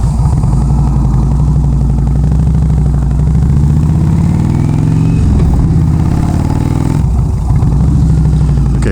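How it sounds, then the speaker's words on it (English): A vehicle engine rumbles loud and close on a rural dirt road, a steady mid-pitched drone with a passing swell in the middle, fitting a truck going by. "Okay, that is a truck."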